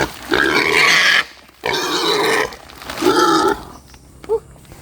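A pig squealing and grunting as it is caught and carried, loud close bursts of squealing in three long runs with short pauses between, ending in a few brief grunts.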